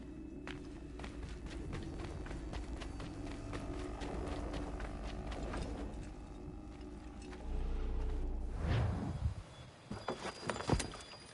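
Horse hooves clip-clop at a steady walking rhythm in Assassin's Creed 3, moderately close but quiet, with a few heavier thuds and rustles near the end and no talk.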